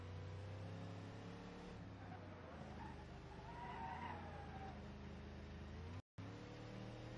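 A car driving in a video game, heard as a quiet, steady engine drone with tyre noise that briefly cuts out near the end.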